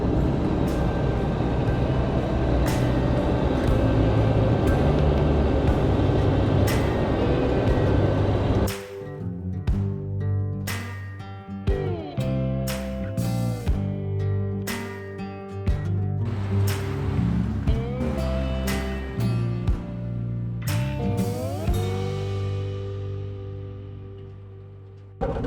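Suzuki Samurai with a swapped 1.6 16V engine and power steering, driving at about 80 km/h. A steady engine and road drone fills the first half, then the tone shifts into rising and falling engine notes with gear changes and clunks.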